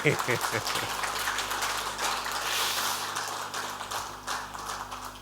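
Applause from an audience at an official government health event in Uttarakhand, a continuous patter of clapping that rises and falls, with a low steady hum underneath and a voice speaking over it at the start.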